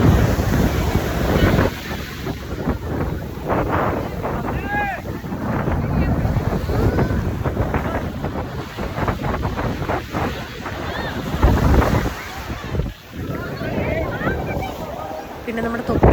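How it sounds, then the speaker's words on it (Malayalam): Strong, gusty wind buffets the microphone at the seashore, roaring steadily over the wash of surf with a few louder gusts, while a voice talks intermittently underneath. "കാരണം ഈ കാറ്റ് ഭയങ്കര കാറ്റാണ്."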